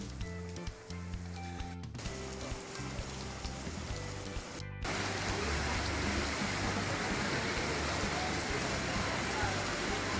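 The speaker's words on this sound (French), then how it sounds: "finalement il recommence à pleuvoir" Heavy rain pours down in Zanzibar, a dense close hiss of drops that swells loud and steady after a short stretch of quieter sound with background noise.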